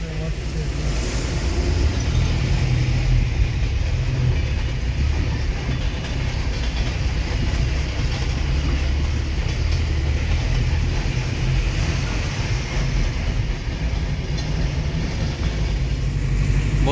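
A train runs near the Farakka bridge, heard from a moving car as a steady low rumble of rolling wagons with faint rail clatter, mixed with road noise throughout.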